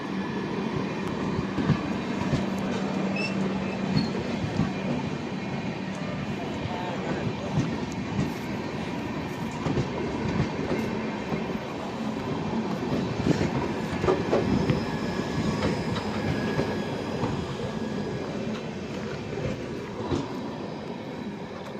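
Inside the Indore–Veraval train as it crosses the Vande Bharat train, a steady rumble of wheels with clickety-clack runs throughout, with faint squeals and background voices.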